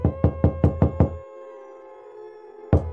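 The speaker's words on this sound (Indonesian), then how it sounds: "terdengar suara ketukan pintu dari arah luar" A door is knocked from outside: a quick run of five sharp raps, a pause with a lingering hum, then one more knock, loud and near.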